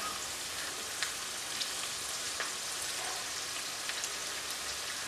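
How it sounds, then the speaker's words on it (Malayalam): Potato-thread-wrapped chicken deep-frying in hot oil, a dense, steady crackling sizzle throughout with a few louder pops, fairly close and without any talk. "ഇത് ഫ്രൈ ആക്കി എടുക്കാം"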